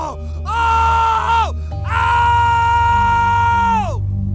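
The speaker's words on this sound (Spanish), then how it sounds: "y este grita del dolor" A man screams in pain after an axe strike in a horror story sound effect: two long, loud, sustained cries, the second longer, over a low rumbling background.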